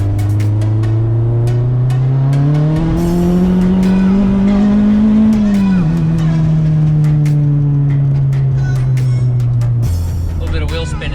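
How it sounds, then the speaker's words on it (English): A big-turbo Mazdaspeed 3 runs hard on dyno rollers with its engine droning loud and close. The pitch climbs steadily through a gear, dips briefly as the wheels spin, then drops away near the end, with voices talking over it. "A little bit of wheel spin in third there."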